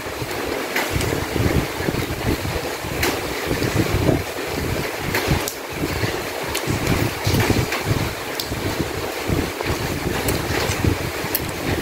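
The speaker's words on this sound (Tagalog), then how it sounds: "lumakas yung ulan." Heavy rain pouring steadily outdoors, a dense continuous hiss with irregular louder gusts and spatters throughout, loud and close with no talking.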